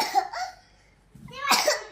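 A young child coughs nearby in two short bursts, a soft cough first and then a stronger, rougher one, with a quiet pause in between.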